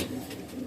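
Andhra and Chennai breed pigeons coo in a low, soft, murmuring burst, brief and faint, with no talk over it.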